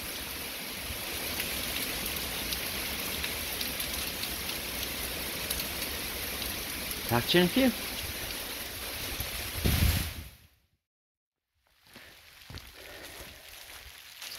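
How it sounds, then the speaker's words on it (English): Steady rain falling outdoors as a storm arrives, a broad continuous hiss on surfaces with a brief spoken phrase near the middle, then a cutout of near silence before the rain resumes. "It's starting to rain again."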